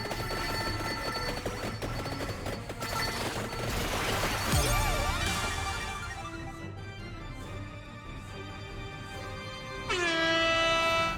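A blaring air horn sound effect sounds loud and sustained, layered with crashing, clattering noise and bright tones, with a renewed loud burst near the end.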